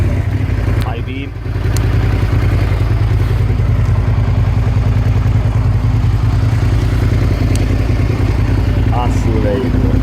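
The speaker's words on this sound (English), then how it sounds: "It's a great motorcycle. Gives a lovely sound as well." A 2005 Suzuki SV650S motorcycle engine runs steadily and loudly close by, a continuous low throbbing idle with a brief dip near the start and faint clicks over it.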